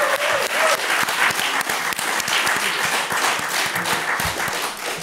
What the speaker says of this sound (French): là, ils applaudissent